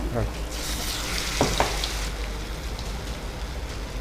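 Aloo bonda, battered potato fritters, fry in hot oil with a dense, steady sizzle and a few sharper pops and bursts as they drop in, close up with a faint voice underneath.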